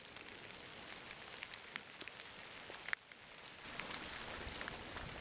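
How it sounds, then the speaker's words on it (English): Steady rain falls around a house in the woods, a dense even patter with scattered close drips and a faint crackle. It is soft and continuous, with no voices. "The sound of the rain envelopes the house."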